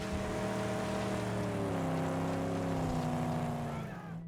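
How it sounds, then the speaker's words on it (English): A continuous revving car engine from the video game Mad Max, its pitch climbing and shifting through gears at a steady loud level before fading slightly at the end. "All the car sounds have really good feedback"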